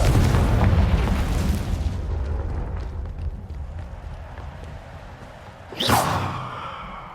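The Confringo fire spell in Hogwarts Legacy bursts with a sudden loud boom near the end, following a long rumbling, decaying roar of earlier blasts against a quiet game backdrop.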